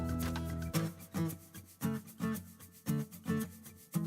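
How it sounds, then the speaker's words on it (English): Wooden segmented bowl ring being sanded by hand, a rhythmic series of about eight rubbing strokes, close and fairly quiet, each stroke a short scratchy swish with brief pauses between. "I'll just sand it off and glue it back on."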